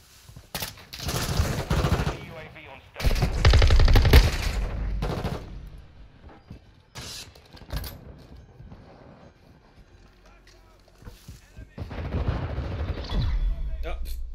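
Rapid automatic bursts from an M4 SMG in Modern Warfare II multiplayer team deathmatch, loud clustered volleys with pauses between, mixed with game explosions and effects.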